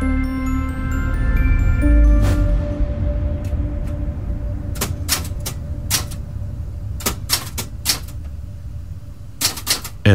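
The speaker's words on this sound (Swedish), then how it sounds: "Elsa knattrade på skrivmaskinen." Keys striking on a 1970s typewriter, a series of sharp clacks in irregular bursts with brief pauses, close and fairly loud over a low background hum, no talk.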